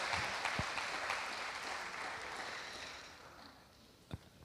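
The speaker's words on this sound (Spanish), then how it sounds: "Vamos a darle un aplauso a la banda de esta noche" Applause for the band at an evening church service, a broad wash of clapping that slowly fades out, with a couple of sharp knocks and a faint voice near the end.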